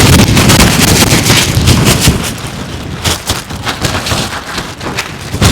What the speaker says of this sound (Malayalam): നല്ല മഴയുണ്ട്, നല്ല മഴ, നല്ല കോട, നല്ല കാറ്റ്, ശക്തിയുള്ള കാറ്റ്.